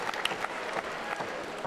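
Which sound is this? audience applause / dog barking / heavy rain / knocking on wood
audience applause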